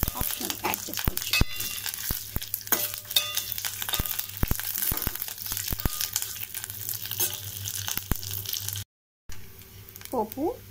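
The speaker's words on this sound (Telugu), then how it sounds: "పోపు బాగా వేగిపోయిందండి," Spices for an Andhra-style sambar tempering frying in hot oil, with a steady crackling sizzle and scattered sharp pops, close and fairly loud, broken by a brief gap near the end.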